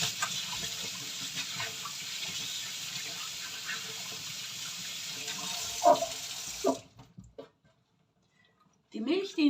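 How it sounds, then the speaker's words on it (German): Running tap water pours steadily into a kitchen sink while hands are washed, close and continuous for several seconds before the flow is shut off, followed by a few brief splashes and clatters. "Jetzt nur schnell Hände waschen"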